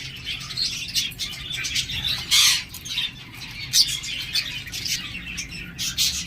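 A pair of caged diamond doves at a bird seller's call among other birds, with bright chirps and squawks, occasional flapping of wings, and a low hum of background noise.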